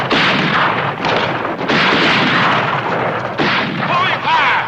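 Gunfire in a western TV shootout: loud, echoing shots in quick irregular succession, close and sharp, mixed with shouting voices.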